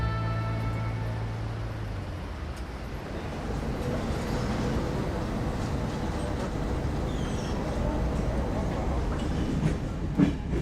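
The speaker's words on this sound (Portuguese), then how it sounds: "No início, é apenas a calma e o movimento compassado do comboio." A train rolls along the rails with a steady rumble and faint rhythmic clatter. A low tonal hum fades in the first two seconds, and a few sharper clanks come near the end.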